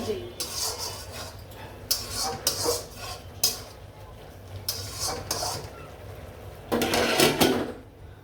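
Spinach greens being stirred in a pan with a metal utensil, for a winter spinach and fish dish: repeated scraping, clattering bursts in an uneven rhythm, close and fairly loud, ending in a longer burst of scraping.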